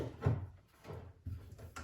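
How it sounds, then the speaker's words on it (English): A docking drawer outlet is pushed into a kitchen cabinet cutout, giving soft hollow knocks and scraping bumps of wood and plastic in a few uneven contacts, close and quiet. "I'm just going to grab my docking drawer and just do a quick fit check before I bring it up and install it."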